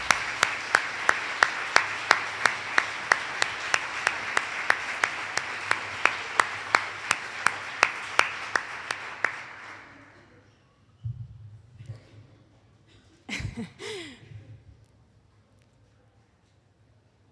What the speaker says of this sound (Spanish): le hemos dado un buen comentario, que es este aplauso de agradecimiento